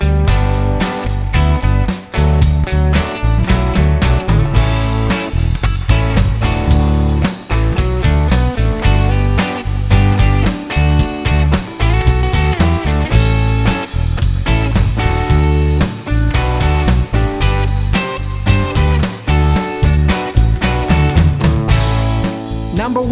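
Rhythm guitar chords strummed steadily and loud for the whole stretch, a full busy sound with dense rhythmic attacks and no voices.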